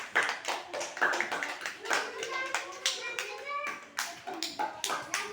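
Children clap in bursts of quick, uneven handclaps after a child draws a picture of Ganpati, with kids' voices chattering over and between the claps.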